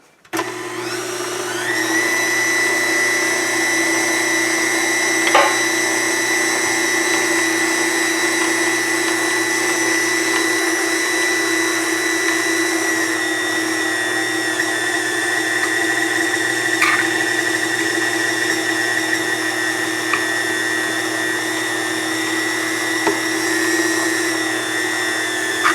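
A blender whirs steadily as it chops beef liver, a constant loud motor drone with a high whine that holds unbroken for the whole stretch, with a few brief clicks and knocks along the way.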